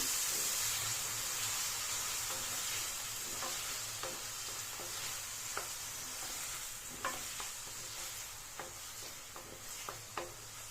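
Chopped tomatoes fry in hot oil in a pan for an egg gravy masala, giving a steady close sizzle with intermittent scraping stirs throughout.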